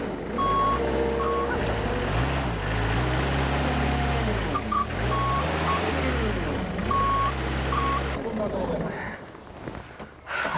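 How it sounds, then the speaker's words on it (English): A forklift stuck in mud at a Perthshire garden runs its engine with a steady low rumble that rises and falls, while regular reversing beeps sound in short bursts throughout. "we still have a forklift stuck in the mud"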